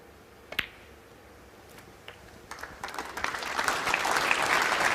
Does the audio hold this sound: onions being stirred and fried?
no